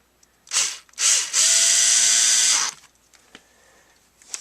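A Ryobi HP53L Tek4 lithium cordless screwdriver driving screws: two short motor bursts, then a longer whirring run of about a second and a half that stops, followed by faint clicks.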